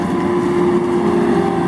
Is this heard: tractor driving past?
yes